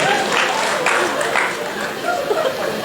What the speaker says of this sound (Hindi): देखो इससे भी ताली बजा रहे।